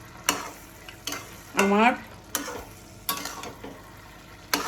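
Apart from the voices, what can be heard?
stirring fish head and moong dal in a frying pan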